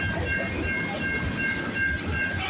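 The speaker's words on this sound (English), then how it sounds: "This train originates from the East Yard in London, Ontario, terminates" A CN freight train rolls past on a snowy morning near London, Ontario, a loud, steady rumble with rail hiss and clatter filling the whole moment, close by and without talk.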